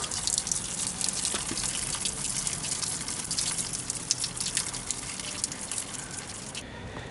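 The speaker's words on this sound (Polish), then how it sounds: "I ta woda sobie tutaj płynie w dół." Continuous bright rush of spring water flowing steadily downhill nearby, a constant gushing babble with no pauses.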